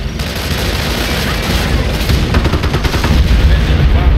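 Heavy gunfire on a base in Company of Heroes, with loud, continuous bursts of rifle and machine-gun fire mixed with booms, a dense battle din throughout with faint voice barks underneath.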